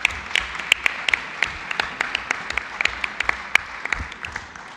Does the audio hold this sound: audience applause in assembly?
yes